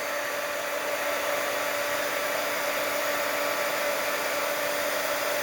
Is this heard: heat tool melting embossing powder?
yes